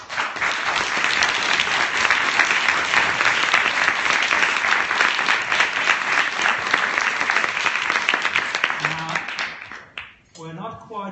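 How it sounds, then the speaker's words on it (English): Dense, sustained audience applause fills a panel event for departing guests, loud and steady for about nine seconds before thinning out, with a voice beginning to speak near the end. "I would like to thank our guests with a big round of applause."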